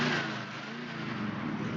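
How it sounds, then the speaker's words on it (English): A car engine revs steadily and loud in downtown traffic during a car collector appreciation event in Manitoba. The roar holds for a short burst with no talk over it. "it sounds like you're in the midst of some serious traffic there"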